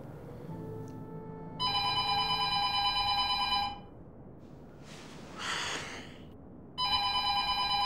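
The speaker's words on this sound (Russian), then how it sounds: "Я к телефону." A telephone ringing in a room, two long electronic ring bursts separated by a pause, fairly loud and alone.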